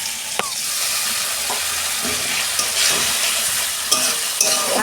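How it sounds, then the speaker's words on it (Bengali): Masala with green chillies, chilli powder and Kashmiri chilli fries for doi katla in a pan, making a loud, steady sizzle with intermittent spatula scrapes and taps. "ভালো করে এবার মশলাটাকে আমি 2 মিনিট কষাবো।"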